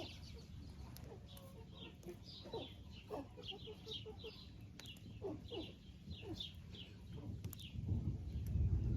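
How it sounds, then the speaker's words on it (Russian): Araucana and Silkie chickens, roosters and hens sheltering from rain under their coop, cluck and call repeatedly at close range over a steady low background rumble that swells toward the end. "в котором живут пара курочка с петушком араукана, 2 шелковых петушка и 3 шелковые курочки."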